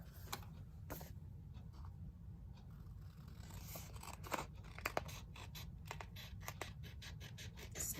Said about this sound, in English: snip around the flap of the envelope.